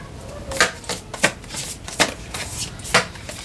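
Cards being shuffled by hand nearby, a series of quick papery riffles and snaps in irregular bursts, fairly soft with no speech.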